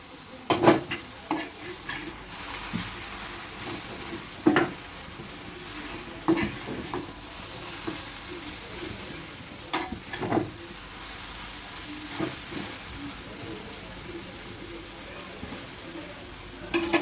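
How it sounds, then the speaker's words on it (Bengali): Jute greens frying in a pan are stirred slowly, giving a steady soft sizzle broken by irregular scraping and clinks of the utensil against the pan. There is no talking. "এখন আমি এটাকে আস্তে আস্তে নাড়া দিয়ে নিব"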